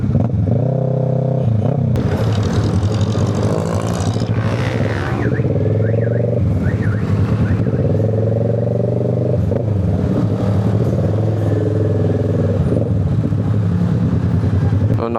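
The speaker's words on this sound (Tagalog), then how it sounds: "Grabe naman traffic to. Aga-aga." Heavy early-morning road traffic in Balibago, with cars and motorcycles revving and rumbling loudly and continuously close by, engines rising and falling over a steady drone.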